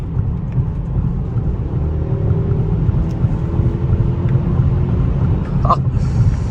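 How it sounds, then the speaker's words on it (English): A steady low engine rumble inside a moving Mercedes-Benz E550 in sport mode, constant and fairly loud, with faint road noise and a few small clicks. "that added engine noise that it gives you is fantastic"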